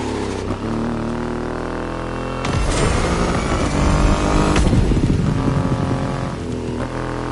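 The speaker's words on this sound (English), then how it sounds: "An extreme motorcycle with a huge presence." Triumph Rocket 3 motorcycle with a 2.5-litre engine in the game The Crew Motorfest, a loud continuous engine drone that swells into a harder rev midway, then settles back to a steady roar.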